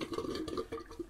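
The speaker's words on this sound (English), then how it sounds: "let's empty the old sea monster sink" Water gurgles and drains from a bathroom sink after a wet shave, a steady close, churning wash with small splashy surges over about a second and no voices.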